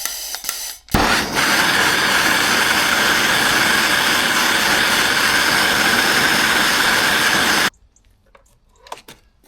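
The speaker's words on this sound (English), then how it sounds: "Take a little blowtorch, just warm up the plug." A small blowtorch roars steadily and loudly close by for several seconds while heating an engine spark plug, then cuts off abruptly, leaving quiet handling noises.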